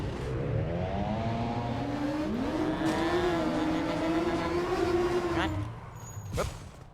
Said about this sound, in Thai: เอารถดีกว่าขับรถเว้ย